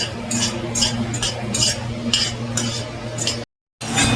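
Dry fruits stirred in a hot kadhai with ghee over a medium-low flame, a steady scraping and clinking of the spoon against the pan in quick repeated strokes, with a faint sizzle underneath.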